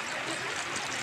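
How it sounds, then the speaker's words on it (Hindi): Water pours into a pot of wild yam curry cooking in a village kitchen, giving a continuous, fairly close splashing rush with no talk over it. "और थोड़ा पानी डाल रही है।"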